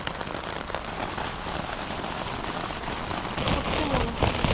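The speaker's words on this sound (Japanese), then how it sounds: "なんかテントの中でも雨降ってるんだけど、やばいなこれ。" Heavy rain pounds on a camping tent during a storm at a lakeside campsite at Lake Hamana, a dense, steady close-up patter and drumming that swells slightly louder toward the end.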